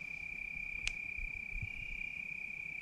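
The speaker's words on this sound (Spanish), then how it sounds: "Es un grillo, ¿no?" A cricket chirps steadily in a single high, unbroken tone, with a faint brief click partway through and low rustling underneath, at an old hacienda in Chilcuautla, Hidalgo.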